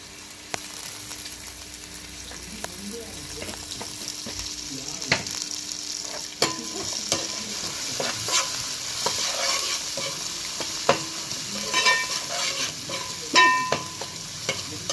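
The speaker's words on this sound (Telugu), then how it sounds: "ఇలా పచ్చివాసన పోయేంత వరకు మంచిగా వేయించుకోవాలి." Onion masala with a pinch of turmeric frying in a pan for fish curry, with steady close sizzling and repeated sharp clicks and scrapes of a spoon stirring it.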